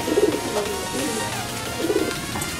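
Pigeon held in hand giving soft, low cooing bursts, two distinct throaty coos separated by a pause, close and fairly loud against faint background noise.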